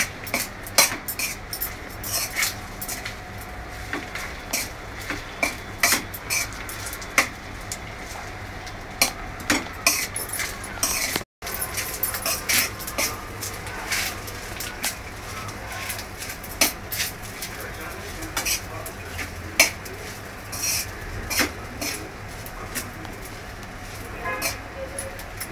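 Fried rice being tossed and mixed with salt in a pan, repeated metallic spatula clinks and scrapes over a low frying hiss, with a voice speaking now and then.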